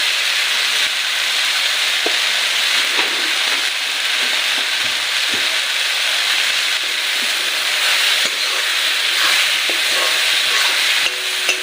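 Steady low sizzle of water spinach greens frying in a pan on low heat, continuous and even throughout, with occasional faint clicks of stirring and no talking.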